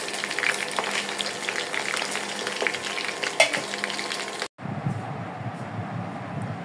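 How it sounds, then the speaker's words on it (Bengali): Chicken pieces frying in hot oil, a loud steady crackling sizzle with occasional stirring clatter that cuts off abruptly and gives way to a softer, duller bubbling. "এইখানে আমার চিকেনে ভাজা শেষ হয়ে গেল"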